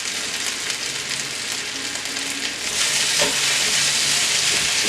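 Potatoes, sausage and onions fry in a cast iron pan, giving off a dense, continuous sizzle that swells louder partway through and holds steady, close by with no voices.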